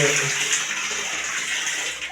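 A weak shower in a boarding house pours a steady hissing stream of water at close range, faintly rushing without pause for a couple of seconds.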